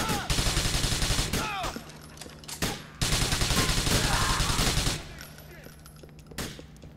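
Rapid bursts of automatic gunfire in Grand Theft Auto, loud and close, coming in dense volleys that stop and start across the stretch, with a few isolated shots and game ambience between them.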